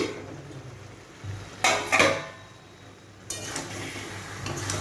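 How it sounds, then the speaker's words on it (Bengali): A cooking-pot lid lifted off a simmering pumpkin-stalk and poppy-seed curry, with a couple of close metallic clanks over a quiet background hum, followed by soft bubbling. "ঢাকনাটা এবার খুলছি।"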